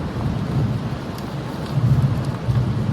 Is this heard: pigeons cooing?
no